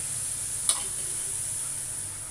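Gram flour being stirred into sugar syrup with oil for Mysore pak, a soft steady sizzle under a high hiss with one brief utensil clink near the start, close and quiet.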